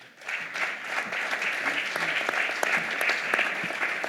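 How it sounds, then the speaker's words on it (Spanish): An audience at a tribute event breaks into applause, which quickly swells into a full, steady round of clapping with individual claps standing out close by. "Las palmas para él."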